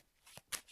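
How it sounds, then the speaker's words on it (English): A deck of Marvel Champions cards is shuffled in two quick riffling bursts, close and fairly soft, with quiet gaps between them. "We'll give his deck a shuffle."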